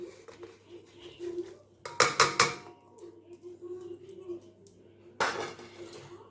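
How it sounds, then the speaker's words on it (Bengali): Boiled, drained jackfruit tipped from a strainer into a cooking pot, a few loud metallic clanks and scrapes close by in two bursts, with quieter handling noise between. "এইবার এই ডেকচির মধ্যে এবার ঢেলে দেবো।"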